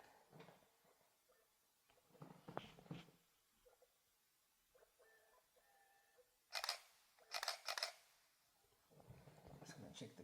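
A camera shutter fires in a quiet room, a few sharp, crisp clicks in quick succession close to the mic, framed by someone talking before and after.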